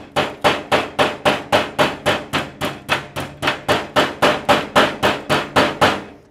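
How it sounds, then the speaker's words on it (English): A hammer beats a sheet-metal edge over a dolly while a car fender skirt is fabricated, with about twenty sharp, ringing blows at a steady, brisk rhythm, loud and close with no talking. "Hammering that edge over,"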